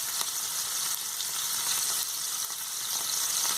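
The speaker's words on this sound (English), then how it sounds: "Hear that lovely sizzle?" Pork tenderloin sizzling in a hot pan, a continuous crackling hiss with small pops, close and steady, no talking.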